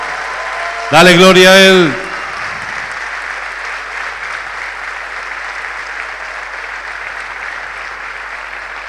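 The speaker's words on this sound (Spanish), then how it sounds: "Si crees que Dios puede hacerlo, hazlo más fuerte ese aplauso" A church congregation applauds with continuous, sustained clapping that fills the room after a brief loud shout from the preacher.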